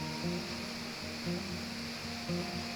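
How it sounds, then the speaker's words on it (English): Water cascades steadily down a waterfall into fjord lakes in Norway, a continuous broad rushing roar heard from a distance with no talk over it. "Water cascading down, opening up into the lakes"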